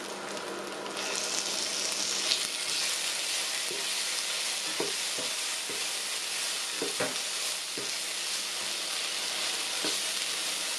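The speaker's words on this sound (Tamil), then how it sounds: "இஞ்சி பூண்டு பேஸ்ட்டு மனம் போகும் வரைக்கும் வதக்குங்கோ" Ginger garlic paste and cashews sautéing in an oiled pan for veg pulao, giving a steady close sizzle and fry with occasional soft stirring knocks throughout, no talk.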